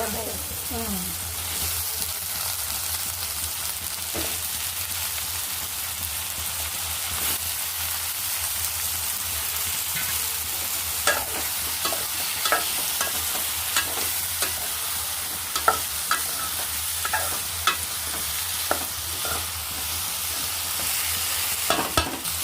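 Chopped bottle gourd pieces fry in hot oil for a Telugu-style pulusu, giving a steady, dense sizzle throughout with occasional sharper pops and stirring scrapes, close and continuous with no talk.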